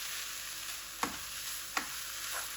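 A spice mixture with a touch of turmeric, for keema kachori filling, is stirred in a pan: a soft, even sizzle with two distinct clinks of the spoon against the pan.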